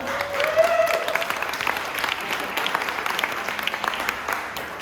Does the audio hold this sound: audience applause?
yes